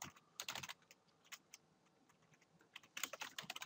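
Quick, light clatters of typing on a computer keyboard, in bursts with short pauses, close but faint and with no one talking.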